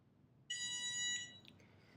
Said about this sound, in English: Wait until it beeps 6 times in one row.